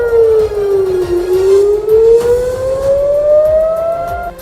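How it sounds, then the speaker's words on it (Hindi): An air raid siren wails loudly at night during an Israel–Hamas war, its tone dipping then slowly rising again in a long, eerie sweep with no voices. "रात को हवाई हमलों की चीख चीख कर चेतावनी देते सायरन"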